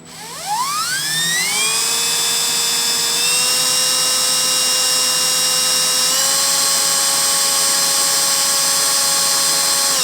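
A power drill on its low setting whirs up to speed and holds a steady high whine, close and loud, running continuously for several seconds.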